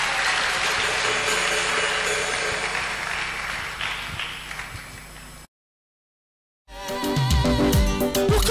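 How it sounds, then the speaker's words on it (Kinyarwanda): Congregational applause at a Rwandan church service offered in praise of God, a loud sustained wash of clapping with voices mixed in, breaking off abruptly into silence before noisy crowd sound returns. "Amashyi menshi ku Mana yacu."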